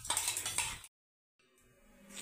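A spoon scrapes and clinks against a metal pan while bhadang chivda masala is moved into a small bowl, a quick bright rattling, then a brief silence and faint kitchen noise.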